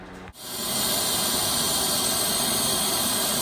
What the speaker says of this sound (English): with compressed air, we're going to blow out the heater cores